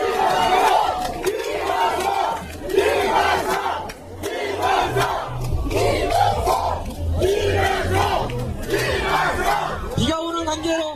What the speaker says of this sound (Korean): 여러분 큰 박수 한번 보내주십시오.